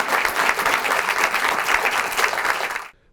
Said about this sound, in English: let's give all the residents who are getting awards another big round of applause